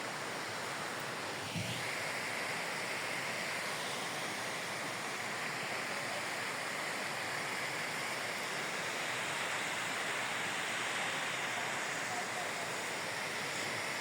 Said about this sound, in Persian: به این آبشار میگن آبشار دوقلو.